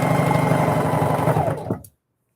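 A sewing machine runs continuously through fabric for a Christmas bucket, a close, loud whirring hum that stops abruptly near the end, leaving silence.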